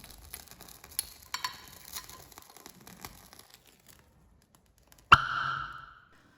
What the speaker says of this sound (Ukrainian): Водень горить приглушено, що підтверджує його наявність.